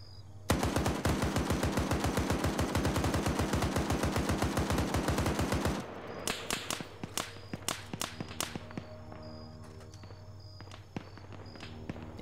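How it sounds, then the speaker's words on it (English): An M2 heavy machine gun firing in a military video game: a long, loud burst of rapid, evenly spaced shots for about five seconds, then scattered single cracks and distant pops as the firing stops. "We're hearing a M2 firing off to the east northeast."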